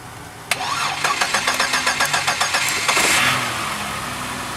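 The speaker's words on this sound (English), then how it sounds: "So I jump started the van" A van with a dead battery being jump started: the starter cranks in a fast, even rhythm for a couple of seconds before the engine catches and settles into a steady idle, loud and close.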